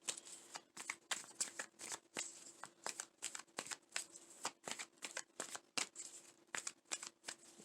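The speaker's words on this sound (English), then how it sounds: "Just shuffle." Tarot cards being shuffled by hand, a long run of quick papery riffles and slaps in an irregular rhythm, soft and close with no voice over it.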